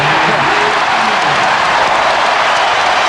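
Crowd roar and cheering from a packed arena at a 1996 NBA Finals game with the Chicago Bulls, a dense, steady wall of noise with faint clapping, close and loud throughout.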